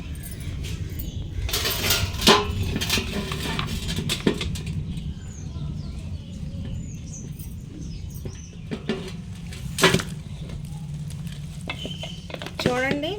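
Mango pickle (avakaya) being mixed in a pot, giving soft wet stirring and scraping with a few sharper clinks of utensil against the vessel, close and fairly quiet, with a voice talking over parts of it.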